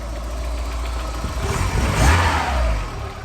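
A 1989 Volkswagen Golf GTI Mk2 8-valve engine running at a steady idle, low rumble close by, briefly revving up a little in the middle before settling back.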